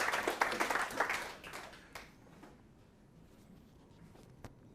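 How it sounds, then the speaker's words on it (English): Short round of applause at a business seminar for a speaker named Joe Webb, clapping fairly dense for the first two seconds, then thinning to a few scattered claps in a quiet room. "Give him a huge round of applause"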